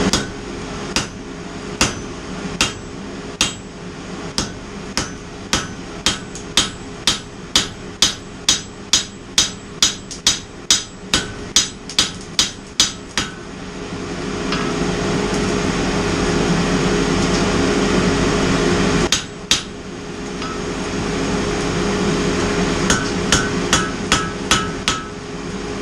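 A hammer forges steel on an anvil while making curtain holdbacks, with a long run of sharp, ringing, evenly spaced blows that speed up. A roaring forge takes over, then a few more strikes ring out near the end.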